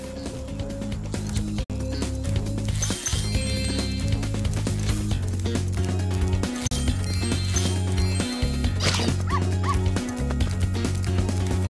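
A dog in the Spyro Reignited Trilogy video game yelps and whimpers repeatedly over a continuous bed of low game music, the cries loud and close with short gaps between them.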